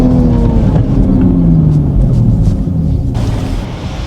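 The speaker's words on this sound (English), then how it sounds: "I love the turbo sounds." Toyota Supra with a turbo engine, tuned, revving in a loud continuous low rumble that holds steady and eases slightly toward the end.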